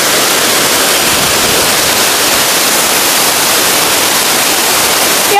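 Waterfall at Tirta Bhuana pouring with a dense, constant roar of rushing water and wind, loud and close, unbroken throughout with no voices.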